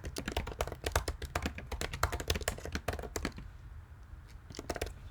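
Rapid, steady typing on a computer keyboard in OneNote: a dense run of crisp key clicks close by that stops after about three seconds, followed by a couple of isolated taps.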